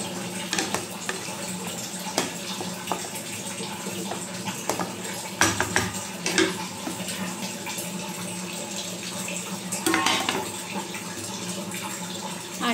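Tap water runs into a bottle beside a kitchen sink while dishes and cutlery are washed, with a steady splash broken by occasional clinks of pots and utensils.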